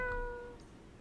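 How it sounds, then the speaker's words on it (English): A pet gecko in the farming game My Time at Sandrock lets out a short, clear cat-like meow that rises and fades within a second, alone with no talk. "My gecko just meowed."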